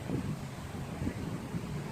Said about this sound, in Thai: มีลมนิดนิด